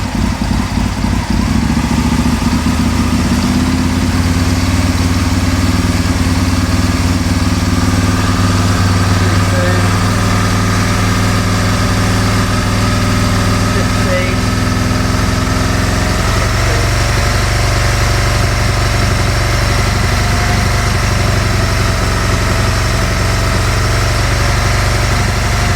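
An Aprilia motorcycle engine runs steadily with the revs held up, a continuous loud mid-pitched drone that shifts slightly in tone partway through, with no talk.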